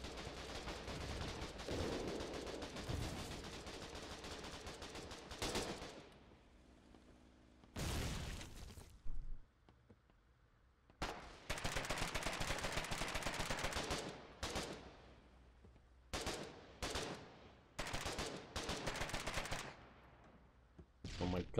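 Sustained bursts of automatic gunfire alternate with short pauses in a Foxhole battle, loud rattling volleys mixed with booming impacts, with people talking over the shooting.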